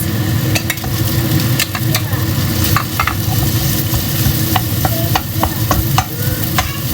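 Rice stirred into bacon frying in a pan for Chinese-style fried rice, a steady loud sizzle throughout with repeated scraping clicks of the spatula.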